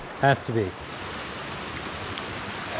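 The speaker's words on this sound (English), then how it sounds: "One of the most beautiful streams in Pennsylvania, absolutely." A flowing stream in a Pennsylvania gorge gives a steady, even rush of water throughout, with someone speaking briefly near the start.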